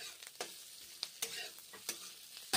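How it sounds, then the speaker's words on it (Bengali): Onions fry in mustard oil in a pan, a soft steady sizzle broken by several sharp scrapes and clicks of a stirring spatula, close and without talk. "পেঁয়াজগুলো ভেজে নিচ্ছি, সর্ষের তেল দিয়ে ভেজে নিচ্ছি"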